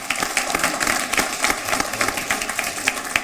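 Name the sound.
audience applause for a poet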